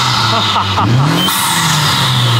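A Honda Civic FL5 Type R engine revs loudly up close, pitch rising and falling, with sharp popping backfires from the exhaust; voices are faintly mixed in.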